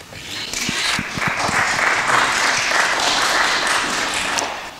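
Crowd applause erupts at a political debate on rent policy, a dense sustained clapping roar lasting several seconds that swells quickly and fades at the end.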